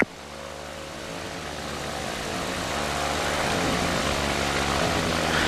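Propeller engine of a powered hang glider back-taxiing on a runway in Hawaii, a steady droning buzz that grows gradually louder and closer, with no talk.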